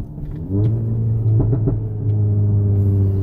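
A Stage 2 APR-tuned Audi A3 downshifting on a street: a steady low engine drone from inside the car, with a brief rev blip near the middle, then settling back to a constant rumble.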